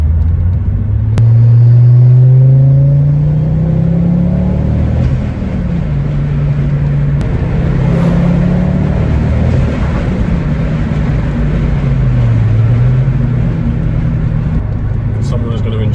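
A 2007 Ford Focus ST pulls in third gear, its loud, close engine drone rising and falling steadily through the revs, with road rumble running beneath throughout.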